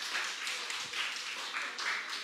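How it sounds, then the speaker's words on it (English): Audience applause for top-performing students at an awards ceremony, a brief patter of scattered clapping from a modest crowd, fairly faint and distant. "And give them a round of applause"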